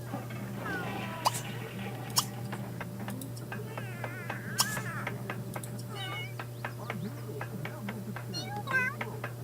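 Cats in The Sims 3 meow and yowl at each other in a squabble, a run of short whiny cries and rising caterwauls over a steady low game hum, with a voice speaking now and then.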